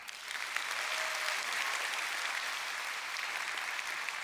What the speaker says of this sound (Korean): 김기훈 교수님께 다시 한번 큰 박수 부탁드리겠습니다